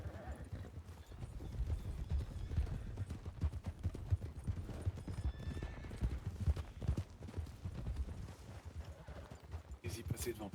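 Horse hooves clip-clop in a steady rhythm throughout a role-play video game scene, with occasional neighing mixed in and people talking underneath.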